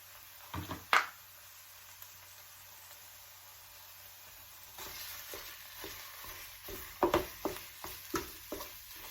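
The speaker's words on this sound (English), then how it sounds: "Now that my garlic has started to lightly brown, I'm going to add my meat. I'm going to start with the beef first." Ground beef added to a pan of lightly browned garlic, soft sizzling frying under intermittent scraping stirs, quiet at first then busier with repeated utensil strokes.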